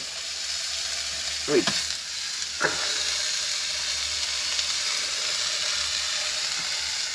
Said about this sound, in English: we'll put a little sausage patty in that fry pan.